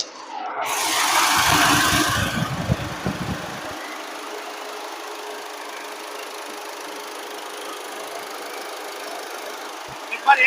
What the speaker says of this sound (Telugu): వెహికల్ అయితే రన్నింగ్ లో ఉంది.